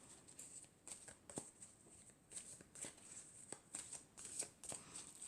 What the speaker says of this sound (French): Alors, je vais prendre déjà 4 cartes.